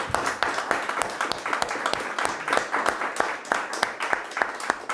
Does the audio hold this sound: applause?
yes